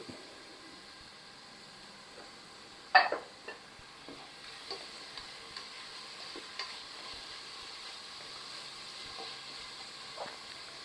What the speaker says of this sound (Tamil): இப்போ இதை நல்லா மூடி போட்டு கோல்டன் ப்ரௌனாக வதக்கி எடுத்துக்குவோம்